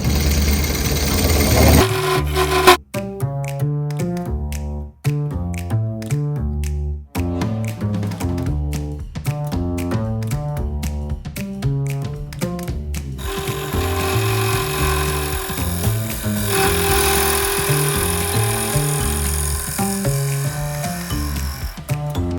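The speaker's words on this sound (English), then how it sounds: "I'm going to reshape it, resand it." A wood-turning lathe spins a black walnut piece being reshaped and sanded with 60-grit paper, giving a loud, steady motor whine with shifting harmonic tones, brief dips as it stops, and rising scraping texture later on.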